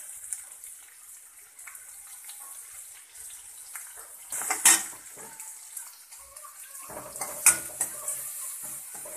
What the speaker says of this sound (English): now I am going to mix this.